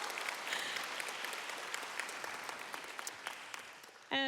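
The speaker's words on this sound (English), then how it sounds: "One more time, an applause for Helene" Audience at a conference closing session applauding, a dense sustained wash of clapping from many hands that gradually thins toward the end before a sudden louder noise cuts in.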